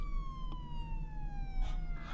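A fire engine and police siren wails with a slowly falling tone over a low engine rumble, fairly distant and steady, with a few brief noisy bursts near the end.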